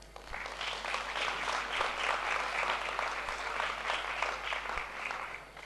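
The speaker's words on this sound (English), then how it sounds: "Let's give the AV team and everyone else helping with the practicalities of this event a great applause" A conference audience at an education and skills anniversary event gives sustained, steady applause, dense clapping from a large crowd filling the room at even loudness throughout.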